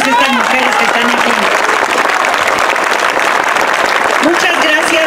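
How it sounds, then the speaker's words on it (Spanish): An audience applauds women gathered at a neighborhood community meeting in Azcapotzalco, a dense sustained wash of clapping with voices audible over and through it. "Un aplauso para todas estas mujeres que están aquí."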